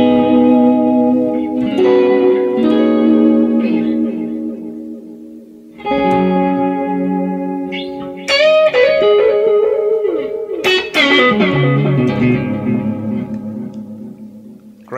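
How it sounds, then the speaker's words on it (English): Electric guitar notes and chords played through a TC Electronic Flashback X4 delay pedal in analog mode, each phrase trailed by warm, softening repeats that blur into one another, loud and close with no talking. "Next mode is called analog, and it emulates the analog pedals. Sounds warm and nice."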